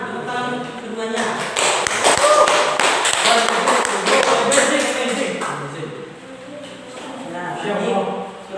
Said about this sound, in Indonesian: Tepuk tangan keduanya.